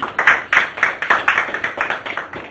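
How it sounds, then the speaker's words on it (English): An audience at a school medal ceremony claps in a steady run of sharp, close hand claps, about four per second, with no talk over it. "Please all of you give a big clap."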